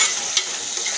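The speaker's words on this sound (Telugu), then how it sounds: "నేను కట్ చేసుకున్న టమాటాలు ఇందులో వేసేసుకుంటున్నాను" Freshly cut tomatoes dropped into a hot pan of oil: a steady, bright, close sizzle with a faint stirring scrape near the middle, and no talking.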